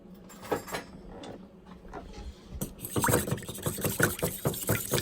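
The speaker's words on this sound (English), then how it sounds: "I'm going to add an egg, and I'm going to whisk that up for an egg wash" Egg and milk are whisked together in a bowl for an egg wash, first as scattered clinks, then as fast, busy rhythmic scraping and sloshing that grows louder in the second half.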